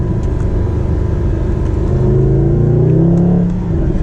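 A Mercedes SLS AMG accelerates hard, heard from inside the car. The engine gives a loud, deep rumble and rises in pitch through the gears, with the revs climbing smoothly and no one speaking.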